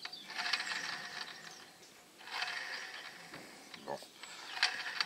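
A circular saw's gears with a damaged tooth turn over in repeated ratcheting bursts, a gritty mechanical whir rising and falling at close range with short pauses between spins.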